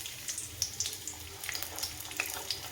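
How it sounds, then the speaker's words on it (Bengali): Garlic tempered in hot white oil in a wok crackles and sizzles steadily, with bright popping spatters scattered throughout, close up and with no talking. "রসুনটা ফোড়ন দিলাম। কটা কাঁচা লঙ্কাও ফোড়ন দিলাম"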